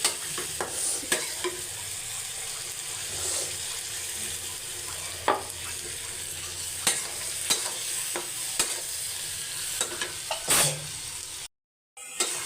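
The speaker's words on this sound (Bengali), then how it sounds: "দেখেন আমি কি সুন্দর করে এটা কষিয়ে নিচ্ছি" Egg curry masala being stir-fried in a pan, a constant crackling sizzle punctuated by repeated sharp spatula scrapes against the pan, heard close with no talking, and a brief silent gap near the end.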